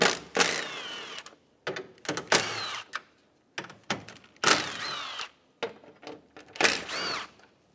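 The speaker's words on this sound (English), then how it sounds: "Using a 10mm socket, remove the 4 10mm bolts." A power ratchet or socket driver spins out 10mm bolts on a 2012-2020 Chevrolet Sonic headlight bracket, several short whirring bursts separated by pauses, close and fairly loud.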